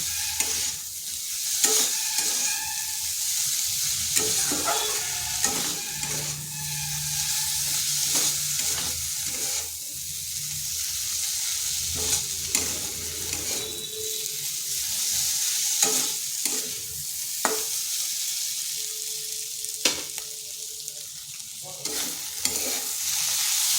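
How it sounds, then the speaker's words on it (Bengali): Papaya and lentils sautéed in a pan, with a spoon scraping and knocking as the mix is stirred over a low, steady sizzle, irregular strokes close by and no talking. "আর ভালো করে সমস্ত জিনিসগুলো কষে নিচ্ছি"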